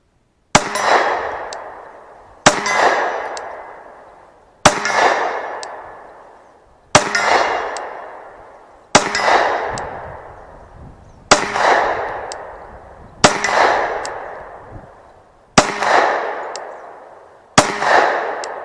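Eight loud pistol shots from a Glock fired outdoors come at an even pace about two seconds apart, each a sharp crack followed by a long echoing decay.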